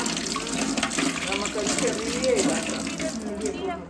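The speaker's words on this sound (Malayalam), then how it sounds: "മുട്ട കഴുകുകയാണ്" Running tap water splashes steadily as eggs are rinsed under it, with brief faint voice sounds in the background.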